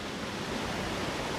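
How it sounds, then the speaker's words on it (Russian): A high waterfall roars as a steady, dense rush of falling water, constant and loud throughout with no other sounds. "Еще один водопад."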